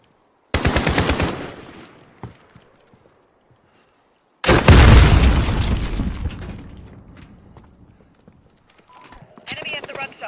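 AK rifle gunfire in Call of Duty Modern Warfare: two loud, close bursts of rapid automatic fire separated by a short pause, each decaying into a brief tail, followed by faint game sounds and a soft voice.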